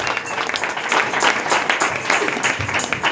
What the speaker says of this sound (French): est-ce que tu peux m'aider à acclamer pour cette maman?